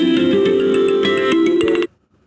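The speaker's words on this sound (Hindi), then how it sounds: "आपका मोबाइल घर में ही खोया हुआ है तो आप प्ले साउंड" A misplaced mobile phone rings at home when triggered by Google's remote play-sound feature, a loud, steady electronic ringtone with a bright harmonic tone that stops abruptly after under two seconds.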